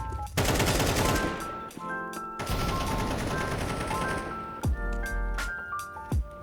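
AK rifle firing in Counter-Strike 2, loud rapid automatic bursts of gunfire with brief pauses, plus mechanical game clicks and ringing tones in between.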